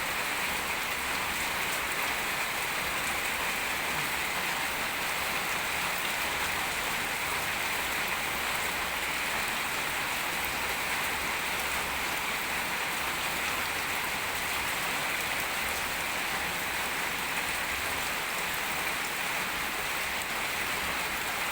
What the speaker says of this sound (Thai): ฝนตกแบบนี้ทำให้มีความรู้สึกว่า โอ้ย ไม่อยากจะลุกเนาะ